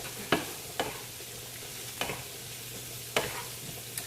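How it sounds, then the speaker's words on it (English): A spoon stirring ingredients and salt in a bowl, making a handful of sharp scraping clicks at uneven intervals over a faint steady hum, close by with no talking. "we're just gonna stir this up"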